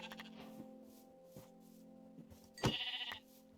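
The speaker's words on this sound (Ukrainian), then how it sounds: "Здравствуйте, вівці." Sheep bleating in the Minecraft video game, with one clear, wavering bleat near the end over a low steady hum and fainter game sounds before it.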